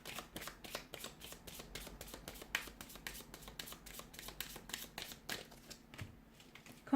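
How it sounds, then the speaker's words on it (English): A deck of tarot cards is shuffled by hand, giving a long, soft, continuous patter of light riffling flicks and slaps, close but quiet. "Keep shuffling."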